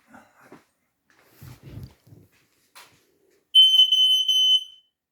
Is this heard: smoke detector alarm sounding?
yes